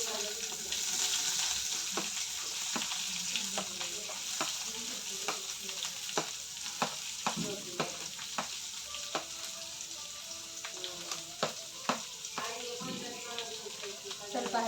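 Curry leaves and onion fry in a hot pan for an egg bhurji gravy, a steady crackling sizzle running throughout with frequent sharp scrapes and stirring clicks from a spoon, fairly close, no talking.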